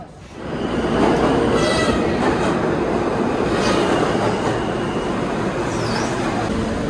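A New York subway train rumbles and roars through the station, rising quickly and staying loud, with squealing wheels and rattling carriages.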